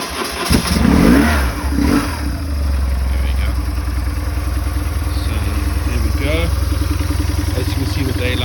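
A BMW 1150 GSA motorcycle engine cranks and fires with the choke set, catching with a loud burst of revs before settling into a steady, close idle.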